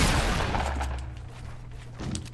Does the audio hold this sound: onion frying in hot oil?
no